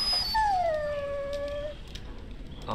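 A dog in the game Dragon Age Origins gives a single drawn-out whimpering whine that slides downward and fades, clear and close against a quiet background with no talking.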